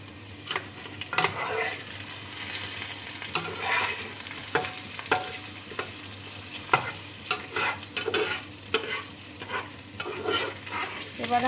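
One dried red chili and two bay leaves crackle in hot oil in a pan for chicken biryani, a steady close sizzle broken by frequent sharp clicks and stirring knocks.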